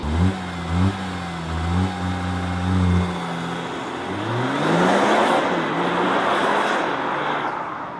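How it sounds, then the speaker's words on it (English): A 2015 Porsche Macan compact SUV engine cranks and fires up, settling into a rumbling idle with a few revs, then builds into a louder, rising roar, close and clear with no talk. "you have to put that here into that slot and then turn it to the right, and then the engine comes alive"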